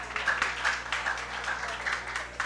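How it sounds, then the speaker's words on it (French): An audience at a singing contest applauds, a steady burst of clapping from many hands filling the short stretch at moderate loudness. "Encore une fois, applaudissez-les, public."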